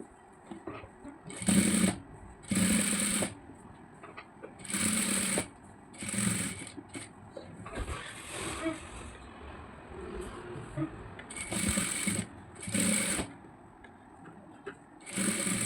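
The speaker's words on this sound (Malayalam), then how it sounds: "ഇതിൻ്റെ മുകളിൽ കൂടെ സ്റ്റിച്ച് കൊടുക്കാം" A sewing machine stitches over a fabric neckline in repeated loud bursts of rapid mechanical whirring, each lasting about a second, with quieter pauses between runs.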